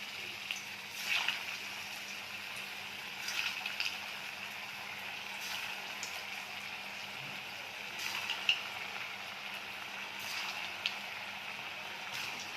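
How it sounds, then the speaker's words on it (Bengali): Koftas frying in hot oil in a kadai give a soft, steady sizzle with occasional brighter crackles and pops, fairly quiet and close, with no talking. "কোপ্তাগুলো লাল লাল করে ভাজা হয়ে গেছে"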